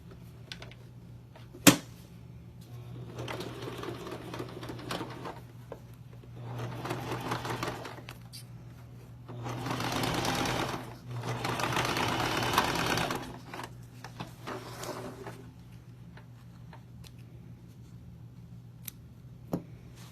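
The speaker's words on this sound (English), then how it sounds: "my goal is to sew as close to the edge as possible" A sewing machine stitches along the edge of a zipper pouch in several steady bursts of rapid stitching, separated by short pauses, with a faint background hum and no talking.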